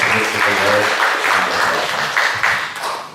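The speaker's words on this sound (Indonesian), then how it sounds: "Tepuk tangan untuk tim pickleball." An audience at the opening of a provincial pickleball association plenary meeting gives the pickleball team a steady, full round of applause that fills the whole clip, with a voice heard faintly beneath it.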